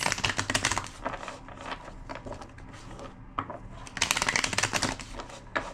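Rapid riffling clatter of a card deck being shuffled, two dense bursts of flicking with a quieter shuffle between, close and alone.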